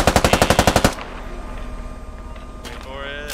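Rapid machine-gun burst in the Squad video game, a dozen or so sharp evenly spaced shots in under a second, then quieter battlefield rumble with a voice speaking and a few more distant shots.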